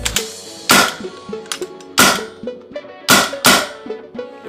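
A Spyder MR6 paintball marker firing, with sharp loud pops in an irregular sequence of about five shots. Each is followed by a ringing, metallic mechanical decay close to the listener.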